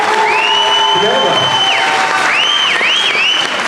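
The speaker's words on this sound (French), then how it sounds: "Donc Elune, on peut l'applaudir quand même déjà" Audience applause for a cosplayer at a manga convention jury introduction, sustained clapping from a crowd mixed with loud music that carries sweeping tones over it.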